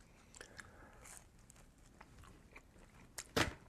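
Someone bites into and chews a slice of Pizza Hut hot dog bites pizza up close, with quiet scattered mouth noises and soft crunches that build to one sharp, louder crunch near the end.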